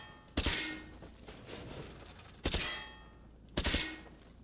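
A secondary weapon fires in Call of Duty: Modern Warfare 2 on PS5, three sharp, separate shots spaced a second or two apart over a steady game background.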